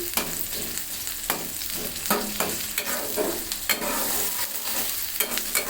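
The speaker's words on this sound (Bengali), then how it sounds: "এটা এখন আমি একটু ভেজে নিব আমি সেই সবটা কড়াইটাতে দিয়েছি" Dried churi fish (shutki) sizzles loudly in a wok, with steady crackling frying and repeated scraping strokes of a spatula as it is stirred, and no voices.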